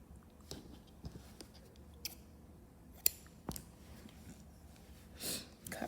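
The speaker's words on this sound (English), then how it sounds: "cut my string." Scissors snip through yarn while doll hair is crocheted: a few soft, scattered cuts and one crisp, sharper snip near the middle in an otherwise quiet room.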